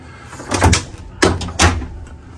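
A hotel room closet's sliding doors rumble and thud along their track in a Courtyard by Marriott near Miami airport, three close, loud knocking slides in quick succession.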